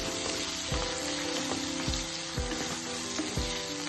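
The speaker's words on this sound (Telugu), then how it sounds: "ఇప్పుడు కడాయి పెట్టి కొద్దిగా ఆయిల్ వేసి జీలకర్ర, దాల్చీని, ఇలాచీ, లవంగాలు, తరిగిన ఉల్లిపాయలు 1 కప్పు వేసి" Cumin, cinnamon, cardamom, cloves and chopped onions fry in oil in a kadai with a steady close sizzle, broken by several regular thumps and scrapes of a spoon stirring.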